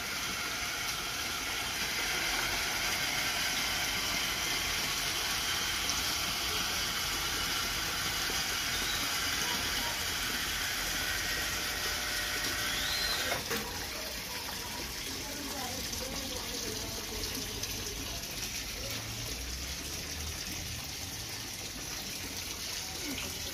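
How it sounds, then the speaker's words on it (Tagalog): Water filter pump running beside a tilapia tank, a steady rushing gush of circulating water with a constant motor hum underneath, continuous and fairly even in level, with faint talk at times. "maganda kasi ang water supply tsaka yung oxygen nya maganda, malakas yung makina, yung sa filter din maganda"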